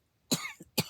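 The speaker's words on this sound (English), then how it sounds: "whenever I get nervous, I start to cough" Two sharp nervous coughs from a person, close and fairly loud, separated by a brief pause with a small throat sound between them.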